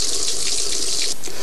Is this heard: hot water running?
yes